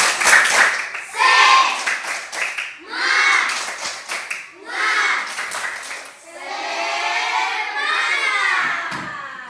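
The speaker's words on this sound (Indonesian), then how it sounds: "Tepuk semangat buat kita semuanya" Elementary schoolchildren in a classroom perform a rhythmic spirit clap together, loud patterned bursts of clapping joined by their shouted chanting.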